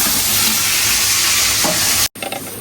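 Fish frying in a pan for a bhuna sizzles loudly and continuously at close range. It cuts off abruptly for an instant near the end, then resumes more faintly.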